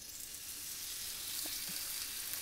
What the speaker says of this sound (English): And now I hear it sizzling and cracking at me